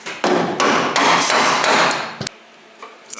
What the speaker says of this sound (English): Use that hammer far too much today.